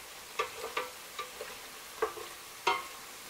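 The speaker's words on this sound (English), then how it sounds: "I always prefer to maintain this yellowish popping color of plantain when frying plantains." Quiet sizzling of plantains frying in oil, punctuated by a handful of distinct sharp pops and ticks spaced irregularly.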